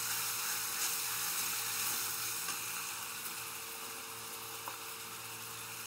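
Green chili paste sizzles steadily in a pan with a soft, continuous frying hiss and faint scraping from stirring, close and alone with no voices.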